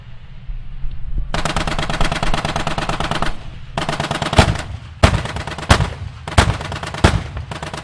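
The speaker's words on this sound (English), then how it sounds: "Hear that boom in between the machine gun fire?" Sustained machine gun fire rattles continuously, then gives way to a series of heavy, evenly paced 30mm cannon booms punctuating the bursts, loud and close, from the video game Armored Warfare.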